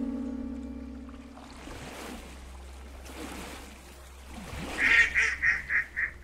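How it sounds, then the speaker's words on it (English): A duck in a video game gives a series of five or six loud, honking quacks near the end, over a low ambient drone and faint splashing water. "Why is the duck moving by itself"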